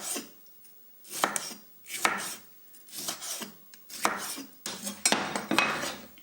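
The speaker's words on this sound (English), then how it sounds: "These other 2 tomatoes can be cut more quickly and crudely into larger bite-sized bits." A knife chops tomatoes into rough bite-sized chunks on a board, about ten quick, distinct knocks in an uneven rhythm, close and fairly soft with no talking.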